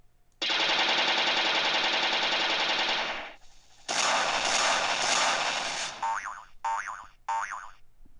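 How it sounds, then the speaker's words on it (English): Loud, sustained bursts of synthetic video game rocket fire and explosions in Unreal Development Kit, two long roaring volleys followed by short electronic chirping tones. "listen for the rocket explosions"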